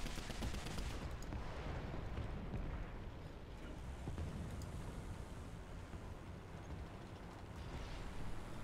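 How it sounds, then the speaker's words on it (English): Heavy machine guns on a low-tier French vehicle in a tank video game roar in a dense, continuous stream of fire that runs the whole time, with faint voices present. "4 heavy machine guns duct taped together"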